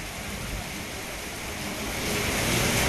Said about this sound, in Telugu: ఉప్పల్, తార్నాక, సికింద్రాబాద్, బేగంపేటలో వర్షం నాన్ స్టాప్ గా కురుస్తోంది.